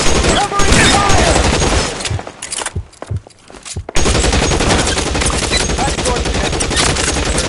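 Heavy video game gunfire bursts loudly in rapid machine-gun volleys, briefly thinning to scattered shots midway before the full barrage resumes; a voice shouts over the firing.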